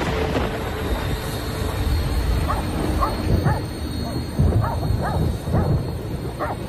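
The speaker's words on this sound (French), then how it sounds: "son chien s'est mis à aboyer" A dog barking around four in the morning, a series of sharp, separated barks at moderate distance, spaced irregularly over a low ambient rumble, with no voice over it.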